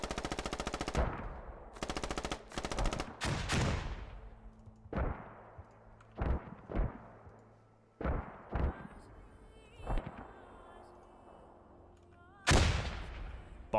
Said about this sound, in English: As a grenade comes in right on top of him.